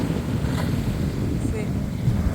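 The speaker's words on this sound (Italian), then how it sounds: "con questo vento qua ti arriva tutta la sabbia negli occhi" Strong coastal wind by the Strait of Gibraltar in Spain roars steadily, buffeting the microphone with continuous, fairly loud gusting noise and no clear pauses.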